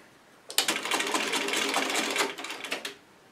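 A Bernina sewing machine stitches fabric in one close burst of rapid, even needle clatter lasting under three seconds.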